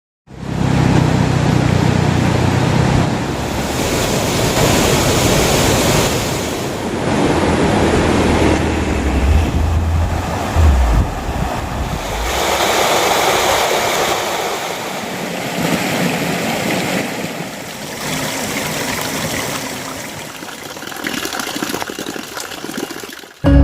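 A river flows near a sacred waterfall, giving a loud, steady rush of water that runs unbroken throughout with no voices.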